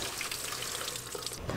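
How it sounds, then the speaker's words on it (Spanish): A small pine twig is rinsed under a running tap, a steady close splash and trickle of water falling over it and into the sink, continuous for a moment before easing off near the end. "la vamos a enjuagar en el chorro del agua"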